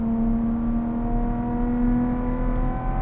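Lotus Evora GT engine pulling hard on a mountain road, heard from inside the cabin as a loud, steady droning tone with strong harmonics that holds and slowly rises, with no talking.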